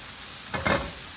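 Kale sautéing in a pan gives a short burst of sizzle and stirring, rising briefly out of a quiet background.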